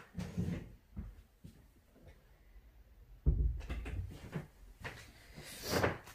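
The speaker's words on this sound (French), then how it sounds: "je vais fermer la porte" A door closing indoors, heard as a few soft knocks and thuds with one firmer bump near the middle and quieter handling noises around it, no talking.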